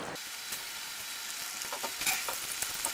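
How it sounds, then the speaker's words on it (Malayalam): Marinated fish pieces go into hot chili masala for a Kannur-style fish curry with raw mango, giving a steady close sizzle and frying hiss with scattered spattering crackles, no voices. "ഇനി ഞാൻ മീൻ കഷ്ണങ്ങൾ, നമ്മൾ നേരത്തെ മാരിനേറ്റ് ചെയ്ത് വെച്ചിട്ടുണ്ടായിരുന്ന മീൻ കഷ്ണങ്ങൾ ഇതിലേക്ക് ചേർക്കുകയാണ്."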